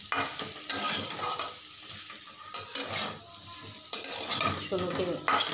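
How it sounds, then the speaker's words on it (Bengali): Papaya, potato and soaked soybean chunks for a light vegetarian curry are sautéed in a hot pan. Close, sizzling frying mixes with repeated scraping strokes of a spatula against the pan, alone and without talk. "এই একটু কষিয়ে নিচ্ছি"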